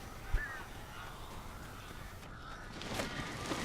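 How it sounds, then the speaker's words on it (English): Cawing crows in the Alan Wake video game, a few harsh calls over a dim ambient bed, with a sharper cry near the start and a brighter burst of sound toward the end. "These birds are weird."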